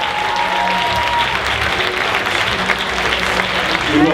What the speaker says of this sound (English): please, a big round of applause for everyone from the Scream Reunion